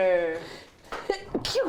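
A single sharp sneeze bursts out near the end, close and loud, following a stretch of a person talking.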